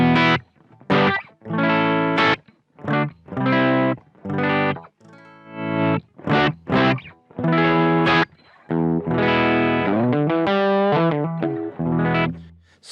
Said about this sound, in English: So this is the basic sound I'm getting from the Marshall.